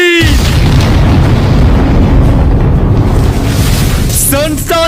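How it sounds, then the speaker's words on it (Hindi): A huge blast in a Demon Slayer fan animation roars as a loud, sustained rumbling boom filling the whole moment, with a voice briefly sounding over it near the end. "मुजान अपनी सारी ताकत उस धमाके में लगा चुका ह"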